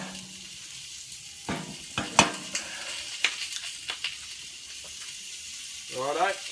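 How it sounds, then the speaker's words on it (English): A steak frying in a cast iron pan gives a low, steady sizzle, broken by sharp clanks and knocks of utensils and a brief watery rush near the end, with no talk. "steak's cooking away"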